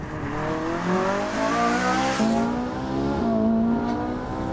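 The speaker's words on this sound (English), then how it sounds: "It's also tuned to produce a much sharper and better engine noise." A Ferrari 458 Italia engine revs hard through rising and falling gears, loud and close, with a sharp, high-pitched howl as it accelerates.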